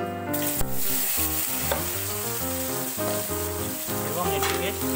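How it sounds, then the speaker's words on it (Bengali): Soybean chunks fry in hot oil with a lively, continuous sizzle, close and fairly loud, broken by scraping and clattering as they are stirred in the pan. "তেলটা এইভাবে গরম হয়ে যাওয়ার পর এবার এটিতে আমি সয়াবিনগুলো ঢেলে দেব"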